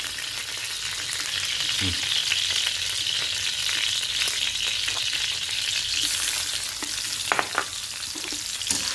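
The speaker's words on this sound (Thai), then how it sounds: "มาคั่วให้มันหอมคั่วให้กระเทียมหอมๆก่อนนะ" Garlic and seasonings fry in vegetable oil, a steady close crackling sizzle with a few scraping and clinking stirring knocks, no voices.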